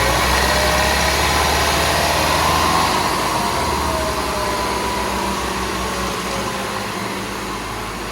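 A second-generation Toyota Prius engine runs just after its first start, a steady low drone with a faint higher whine, fairly even and slowly easing in loudness.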